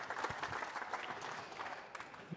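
An indoor audience applauds the Wigan Warriors under-19s Division 3 winners at a squash league grand final. The clapping is continuous and fairly distant, a dense steady patter with no voices over it.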